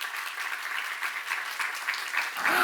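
A church congregation applauds at a seminar, giving a brief, steady burst of clapping that sounds a little distant and swells slightly toward the end.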